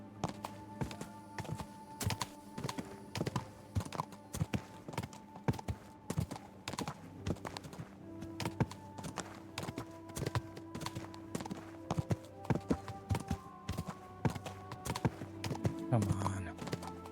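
Horse hooves while riding in Kingdom Come Deliverance 2, a steady rhythmic clip-clop of hoofbeats at moderate pace, close and fairly quiet, with faint background tones and a brief rise in noise near the end.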